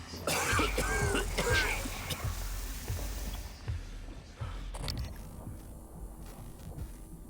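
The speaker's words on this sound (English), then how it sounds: "Why did I start to cough?" A player character coughs repeatedly in the video game Prey, a run of close, rough hacking coughs near the start that grows fainter and sparser over a low rumbling game ambience.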